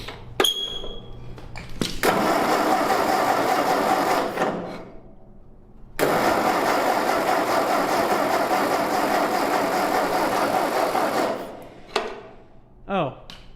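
An old, long-neglected Ford tractor engine cranks and fires, then runs at a rough, steady idle for a few seconds, stops and restarts, with a sharp starter whine and clanks near the end.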